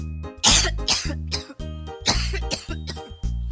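A child coughs repeatedly in a few harsh bursts, close and loud, with short gaps between the fits.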